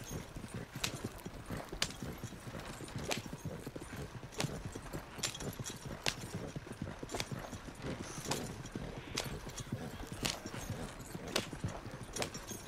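Rapid, rhythmic hoofbeats pound continuously as a horse gallops in the video game Red Dead Redemption 2 Online, evenly paced and fairly faint, with no talking.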